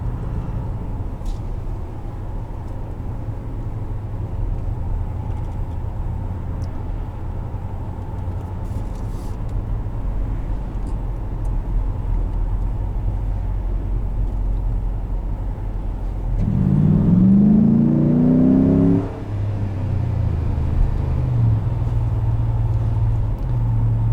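A 2014 Ram 1500 R/T pickup's steady low engine rumble throughout, swelling into a brief rising rev from the exhaust near the end before settling back to idle.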